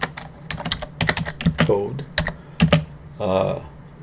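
Notes being typed on a computer keyboard, a close run of crisp key taps in irregular bursts with short pauses, a brief voice murmuring near the end.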